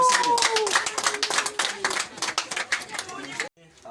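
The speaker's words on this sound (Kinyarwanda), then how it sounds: "amashyi menshi" Guests at a wedding ceremony burst into loud, dense clapping that rolls on for several seconds before stopping abruptly, with a voice and chatter mixed in beneath the applause.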